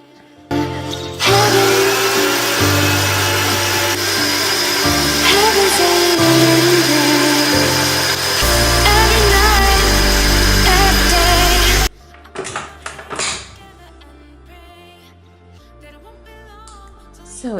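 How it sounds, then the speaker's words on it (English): An electric whisk beats vanilla sponge cake batter in a loud, steady, close whir whose pitch shifts as the speed changes. It stops abruptly, leaving quieter clatter and handling sounds. "I'm going to whisk it, then we'll come back once it has doubled in size and become thicker"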